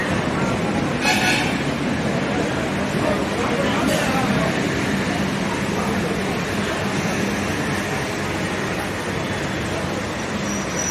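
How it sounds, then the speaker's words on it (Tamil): An electric suburban train bound for Beach station rumbles loudly and steadily along the platform at Potheri railway station, with a busy station's noise and people talking underneath. "கடற்கரைக்கு செல்லும் மின்சார ரயில் கொண்டிருக்கிறது"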